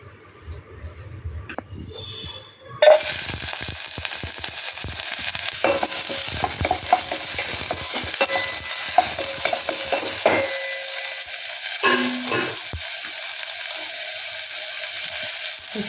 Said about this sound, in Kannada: ಸ್ವಲ್ಪ ಜೀರಿಗೆ ಹಾಕ್ಕೊತಾ ಇದ್ದೀನಿ.